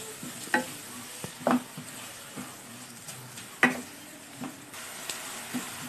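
Onions softening in a pan, stirred with a spoon, with a faint steady sizzle and a few sharp clinks and scrapes as the spoon hits the pan. No talking.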